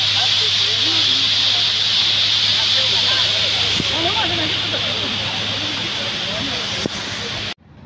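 Steady broadband rushing of a waterfall in Fujairah, constant and fairly loud throughout, with a low hum underneath and faint voices in the background before it cuts off abruptly near the end.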